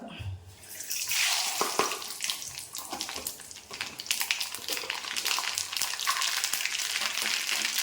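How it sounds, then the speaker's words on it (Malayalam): Mustard seeds hit hot coconut oil in a pan and give a steady, close sizzle full of dense crackling and spattering pops that continues throughout. "അപ്പം വെളിച്ചെണ്ണ ചൂടായിട്ടുണ്ട്. നമ്മൾ ഇതിലേക്ക് 1/4 സ്പൂൺ കടുക് ഇട്ട് കൊടുക്കുവാണ്."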